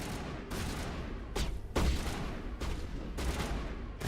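Assault rifle fire from a Mass Effect firefight, pirates in a space setting, comes in long continuous bursts split by brief pauses, loud and close with no voices.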